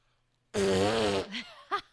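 A person imitates a fart with the mouth: one loud, close, buzzing raspberry lasting under a second, followed by a couple of short squeaky vocal noises.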